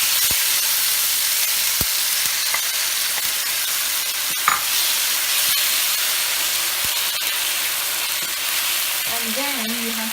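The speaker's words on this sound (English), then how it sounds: "you have to heat the vegetable oil on a frying pan like this, and then once it's heated, you have to add the tomatoes" Tomatoes and onions fry in hot vegetable oil in a frying pan, a steady close sizzle and hiss with a few small clinks and a brief faint voice near the end.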